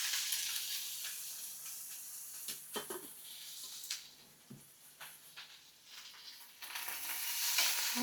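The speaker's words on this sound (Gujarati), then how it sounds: "આ લસણ અને જીરું શેકાવા નાખી દઈએ છીએ" Garlic cloves and cumin seeds sizzle steadily in a little hot oil over a lowered gas flame, a close continuous frying hiss broken by a few clinks of stirring, with no talk.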